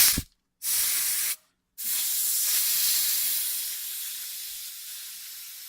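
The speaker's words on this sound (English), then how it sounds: "you want to come down here to the bleeder and relieve all that pressure" Pressurized brake fluid hisses loudly from the bleeder valve of a BMW E60 hooked to a power bleeder at about 15 psi: two brief close bursts, then a long steady hiss that slowly fades.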